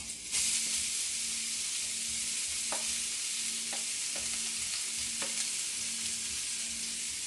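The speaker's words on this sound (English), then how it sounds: "So I have a pot here with a small amount of oil. I'll be adding my onions." White and purple onions frying in a small amount of oil in a pot, with a steady close sizzle and hiss throughout, broken by a few soft stirring clinks.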